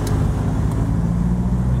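A classic car with a 1622 B series engine, the kind fitted to the Austin Cambridge and MGA, idles with a throaty, low engine rumble, close and loud in one short continuous burst.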